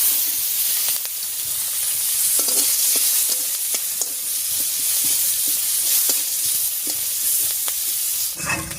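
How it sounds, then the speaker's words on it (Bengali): Chopped onion frying in oil left over from frying dried fish, a loud steady sizzle with repeated spatula taps and stirring scrapes, ending in a sudden burst of hissing. "এই তেলের উপরে দিয়ে দিচ্ছি পেঁয়াজ কুচি"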